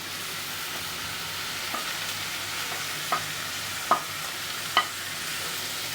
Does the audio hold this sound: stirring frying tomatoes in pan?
yes